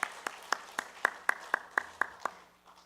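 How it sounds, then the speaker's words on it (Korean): A regular series of about ten sharp claps rings out at a steady beat in a church service, fairly close, then fades out with no voices. "우리 힘찬 격려의 박수 부탁드립니다"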